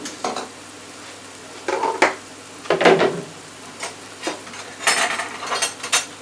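Chicken and vegetables cook in a frying pan for a bourbon stir fry: bursts of sizzling come and go with scraping and clattering as the food is stirred, close and moderately loud with no talk.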